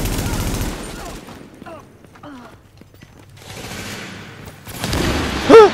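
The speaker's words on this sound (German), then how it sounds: "Ich hab grad voll auf den Team geschossen." Bursts of gunfire in the video game The Division, a loud volley at the start and another near the end, with quieter gaps between where voices talk.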